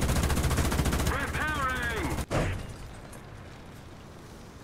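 Rapid automatic gunfire from a Type 87 RCV in War Thunder rattles in a fast continuous burst, with a voice talking over it, then cuts off abruptly and leaves low engine rumble.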